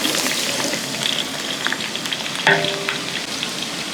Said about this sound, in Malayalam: ഇഞ്ചി വെളുത്തുള്ളിയൊക്കെ മൂത്ത് വരുന്നുണ്ട്